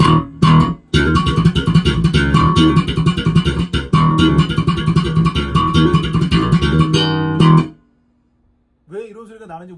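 An NS-2 instrument plays with its trap setting raised, giving a dense, loud, crunching and distorted tone in choppy bursts that stops abruptly, followed by silence and then a brief voice.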